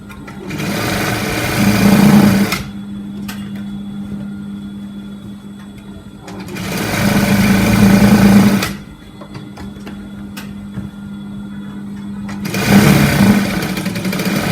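A sewing machine stitches a sleeve onto an armhole, running in three steady buzzing bursts of about two seconds each, with quiet pauses between them and no talking.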